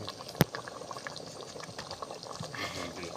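A pot of Isan-style curry with sugarcane shoots and chicken bones simmers at a low boil. Faint, steady bubbling stays quiet and close, and a single sharp click sounds near the start.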